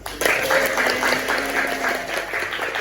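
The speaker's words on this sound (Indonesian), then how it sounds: "berikan tepuk yang gemuruh" A burst of clapping from a classroom group fills the room, rhythmic and fairly loud, lasting a few seconds with no speech.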